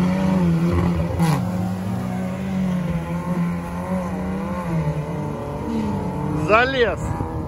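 Off-road trophy sprint vehicles compete at a 2023 Krasnodar regional event, with engines droning and revving steadily at mid distance and a sharp rising rev near the end, under continuous nearby talk.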